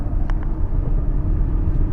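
Steady low road rumble fills the cabin of a 2017 Chevrolet Colorado ZR2 pickup with the 2.8 Duramax diesel cruising at 65 mph, a muted, even drone with no squeaks or rattles and a couple of faint ticks.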